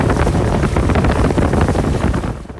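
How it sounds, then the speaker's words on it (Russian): A motorboat travels on the Volga river with a loud, steady roar and heavy wind buffeting the microphone, easing off slightly at the end. "мы спустились к Волге и просто пошли по воде на моторке"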